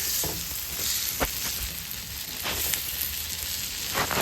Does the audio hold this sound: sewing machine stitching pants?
no